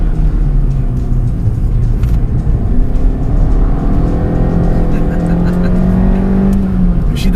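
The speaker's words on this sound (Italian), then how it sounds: "in queste curve mi piace molto scannare questo piccolo motore" Suzuki Swift Sport 2018 hot hatch with a small engine, revving steadily through curves, with rising and falling engine tones under a voice talking throughout.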